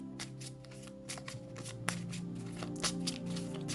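Playing cards for a tarot-style reading riffle and shuffle close by in quick repeated bursts of papery flicks and soft taps, with no talking.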